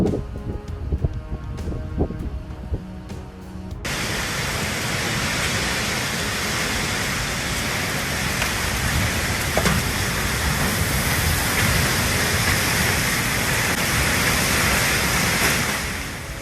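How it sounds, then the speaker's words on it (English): A fierce desert storm in Ha'il, with hail and roaring wind, produces a dense, loud, steady wash of noise. It sets in abruptly after a few seconds of quieter crackling and then holds without pause. "the sky turned black, fierce winds roared, and hail poured down like a waterfall"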